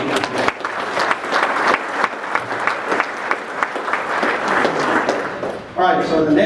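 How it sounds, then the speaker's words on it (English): An audience at an annual cotton industry meeting's awards program gives a lively round of applause, dense clapping lasting several seconds before it thins out and a voice starts speaking near the end. "So let's give all them a round of applause."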